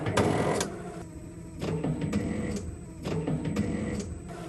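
Quick hitch on a NESHER electric loader retracting its pins: a few short mechanical whirring bursts with clunks, close and moderately loud, separated by brief pauses.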